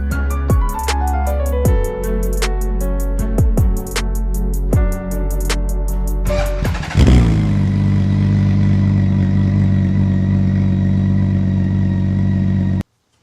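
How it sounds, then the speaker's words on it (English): A BMW K1600 GT motorcycle engine idles continuously with a low rumble, punctuated early on by sharp clicking ticks, then settles into an even hum until it cuts off. "Close the filler cap and let the engine run until the fan kicks in."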